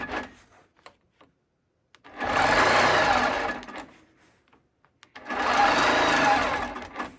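Long arm quilting machine running in two bursts of steady rapid stitching, each about a second and a half long, with a quiet pause between them.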